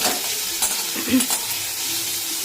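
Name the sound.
onion and carrot frying in a pan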